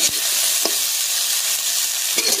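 Onion, garlic and ginger frying in hot mustard oil for a raw jackfruit curry, a steady close sizzle with a few brief stirring scrapes and clinks and no voices.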